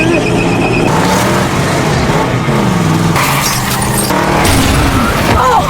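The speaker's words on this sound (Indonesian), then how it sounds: "John kembali mengejar Jim dan Grace dengan aksi ugal-ugalannya di jalan raya" Tires squeal and an engine roars as a red pickup truck races along a highway in a film chase, loud and close, with screeching skids and swelling music-like tones layered over the driving noise.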